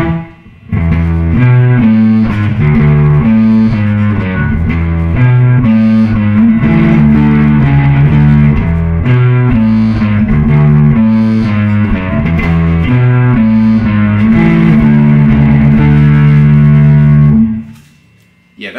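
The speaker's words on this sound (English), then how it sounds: "I've got my drive tone set somewhere between a distortion and a fuzz" A gritty bass guitar through a drive set between distortion and fuzz plays a steady run of notes for about seventeen seconds, loud and thick, then stops abruptly.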